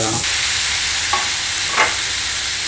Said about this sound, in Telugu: మిరపపొడి వేసినాక ఒక నిమిషం అంతసేపు కొద్దిగా కలుపుకుంటా ఫ్రై చేసుకోవాలి